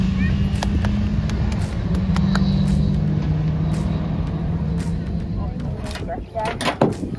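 Junior saloon cars race at an autograss meeting, their engines droning steadily throughout with a sustained low hum and scattered sharp clatters, while a voice speaks intermittently over the noise.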